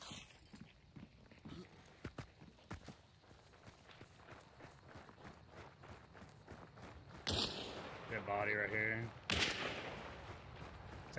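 Gunfire in a PC shooter video game crackles as quick bursts of sharp shots among running footsteps, fairly faint, with louder shots and clattering effects near the end.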